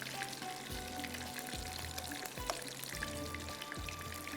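Kebabs frying in a pan, a steady close sizzle and crackle running throughout with a few soft utensil knocks, no talking.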